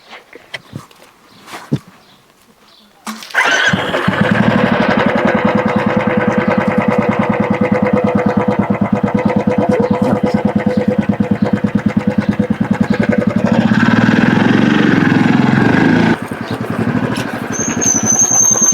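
A motorcycle engine starts after a few clunks and light footsteps, then runs at a steady, loud, close idle with a rhythmic throb for about thirteen seconds before dropping in pitch.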